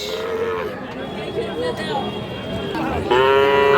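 Sahiwal bulls and calves at a rural cattle market in Dinajpur, lowing in several close, drawn-out moos over crowd murmur, with a louder call near the end.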